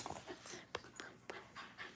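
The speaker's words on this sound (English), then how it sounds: "That dog is a blue heeler, also known as an Australian cattle dog." A blue heeler, an Australian cattle dog, pants close by in quick rhythmic breaths with a few sharper huffs, faint and alone without speech.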